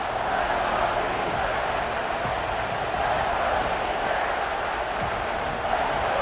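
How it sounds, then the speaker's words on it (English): A stadium crowd in the College Football 26 video game roars on third down in an Alabama vs Oklahoma playoff game, a dense, loud, steady wash of cheering that never lets up. "3rd down and the crowd really getting into it"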